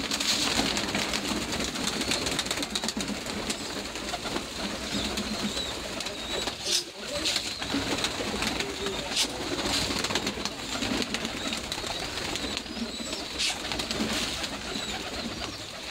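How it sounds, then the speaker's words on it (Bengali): Domestic pigeons coo steadily in a rooftop loft, with a low, continuous murmur of many birds filling the whole stretch at close range, with no talk. "এই যে দেখুন আমার কবুতর।"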